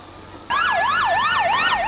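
A loud wailing ambulance siren starts abruptly and rises and falls in a fast, repeating sweep, close by and alone, after the 2004 Madrid train bombings.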